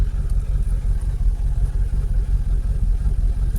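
A Jaguar 4.0 V8 engine runs just after a valve lifter and shim replacement, a steady low rumble with slight pulsing throughout, heard close and at moderate volume.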